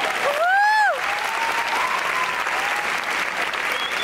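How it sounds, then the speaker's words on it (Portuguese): Applause rises from a theatre audience welcoming Marcelo Bova, a thick, continuous clapping crowd heard throughout, with a brief rising whistle-like tone at the start. "Uma salva de palmas."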